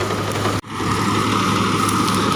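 A John Deere 5405 CRDi tractor engine running in third gear, a steady low diesel hum that drops out for an instant near the start, then resumes evenly and loud.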